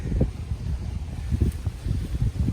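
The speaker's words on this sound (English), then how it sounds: "Windy." Steady low wind gusts at an outdoor hammock campsite in the wild, rumbling and buffeting close to the microphone in irregular surges without a break.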